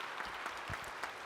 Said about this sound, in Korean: 전국교회 목사님들을 향하여 박수 한번 하세요.